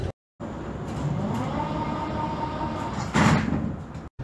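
Sliding doors of a Prague metro 81-71M train closing at a station, a loud pneumatic hiss and thud after a brief silence, followed by the rumble of the car interior.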